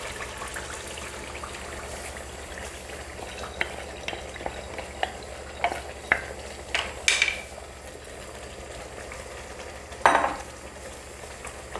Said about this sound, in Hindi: और इनको तकरीबन 4 से 5 मिनट तक भूनेंगे।